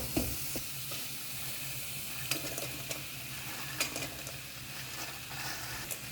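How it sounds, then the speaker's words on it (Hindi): Fried bread cubes stirred into a spice masala in a pan: a soft steady sizzle with scattered scrapes and clicks of a spoon, quiet and close, no talking. "अब इसमें डालते हैं फ्राई किए हुए ब्रेड।"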